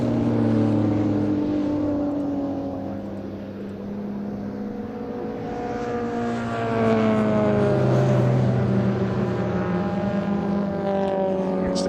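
Classic racing cars, led by a classic Alfa Romeo from the Alfa Challenge, roar past at Thruxton circuit. A loud, continuous engine drone with shifting pitch swells as the cars approach and pass, with several engines overlapping.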